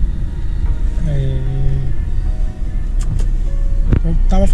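Car being driven home from the mechanic, heard from inside: a loud, steady engine rumble with occasional clicks and knocks, and someone talking over it.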